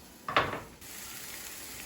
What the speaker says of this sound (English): Those are all sizzling through.